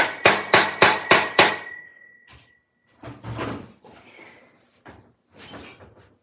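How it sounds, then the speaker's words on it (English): Five sharp, evenly spaced hammer blows ring out close by as a sprocket is seated with a clutch tool, followed by a few softer metallic clinks and knocks. "There's a couple more whacks and see just in case."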